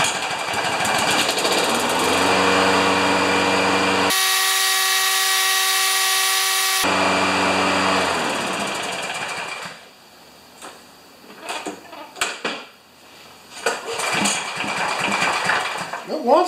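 A John Deere 14PZ push mower with an intermittent starting fault is pulled and fires, its engine running loud and steady before cutting out into sputters and tries, with someone talking.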